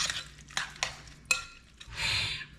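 Ingredients being mixed in a pan for green beans during Thanksgiving meal prep: a utensil knocks and scrapes the pan in a few sharp clinks, then stirs with a short scraping swish, close and fairly clear.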